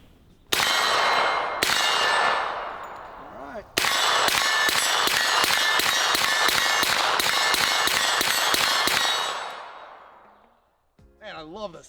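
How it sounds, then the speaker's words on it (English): A 10mm pistol-caliber carbine fitted with a Mojave 45 fires a single loud shot, another after a short pause, and then a fast even string of about a dozen shots, each cracking sharply and ringing out into a decaying tail, with a few words spoken at the end. "So 10 millimeter now with Mojave 45."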